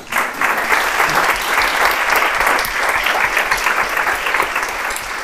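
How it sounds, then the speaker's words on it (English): Seminar audience applauding at the close of a talk, a dense, loud, sustained clapping from a room full of people that holds steady throughout. "Please give an applause."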